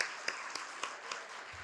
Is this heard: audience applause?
yes